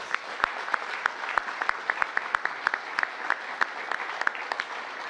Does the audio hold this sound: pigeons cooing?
no